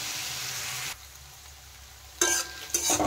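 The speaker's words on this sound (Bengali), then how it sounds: "নেড়ে চেড়ে ভালো করে এখন ভেজে নেব আলু" Potatoes and onions sizzle and get stirred in a pan with slit green chillies for a banana flower and prawn dish. The sizzle comes in bursts with a quieter stretch in the middle and swells loud again near the end, with no voices.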